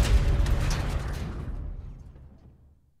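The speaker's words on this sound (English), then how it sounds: "Hit that SAM site with a missile." A missile explosion striking an enemy SAM site in the video game Modern Warfare 3: a heavy, booming blast that starts loud and rolls off into a fading low rumble over a few seconds, with no talk over it.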